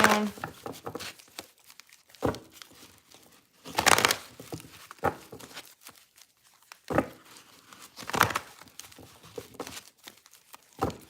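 Tarot cards being shuffled by hand, giving repeated bursts of papery riffling and crinkling in clusters separated by quiet gaps, close and moderately loud with no talking.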